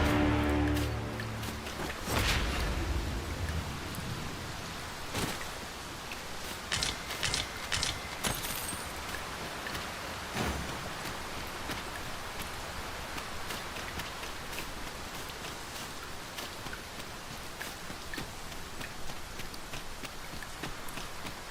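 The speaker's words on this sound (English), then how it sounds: "Must we do battle amidst this dreadful downpour?" Steady rain downpour in a fantasy video game, a continuous hiss of falling water with occasional sharper taps and thuds, constant in level throughout.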